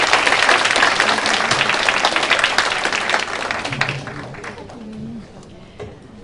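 Audience at a forum applauds the sign language interpreters, a burst of clapping that is loud at first, then thins out and fades over several seconds, with a brief voice near the end.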